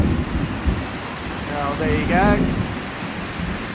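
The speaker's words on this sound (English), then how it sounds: "Bit of thunder." Thunder rumbles low and heavy during a hot summer afternoon storm on a small city farm in Australia, with wind-blown rain hissing steadily throughout; a voice briefly speaks over it.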